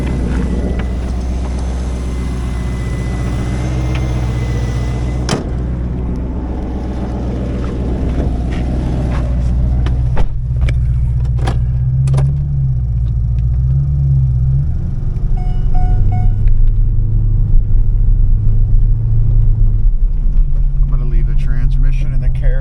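A 1998 Chevrolet Corvette C5 with its LS1 V8 on a salvage-yard test drive, giving a loud, steady low engine rumble that rises slightly in level, with brief voices at times.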